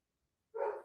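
One muffled dog bark sounds faintly from another room indoors, arriving alone after near silence.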